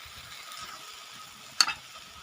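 Spice masala with crushed garam masala frying in a pan for a vegetarian aloo dum curry, a low, faint sizzle with one sharp scrape of a spoon stirring near the end.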